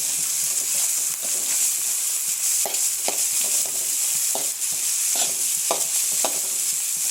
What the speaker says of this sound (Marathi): ही सुंदर आपली फोडणी